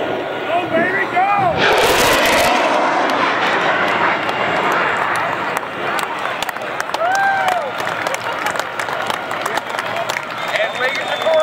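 F-16 fighter jet making a high-speed pass at an air show, a loud broad roar sweeping in with a sharp burst early on, then a sustained rumble over crowd noise and an announcer talking throughout.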